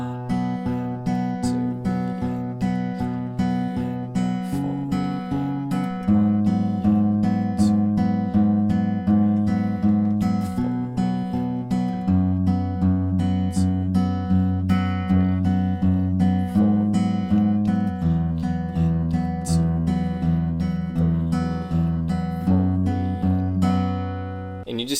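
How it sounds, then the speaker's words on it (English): Fingerpicked acoustic guitar plays the chorus of a song in a steady looping pattern, with even picked notes over shifting bass lines, held at a constant moderate level throughout with no talking. "And in total, our chorus will sound like this."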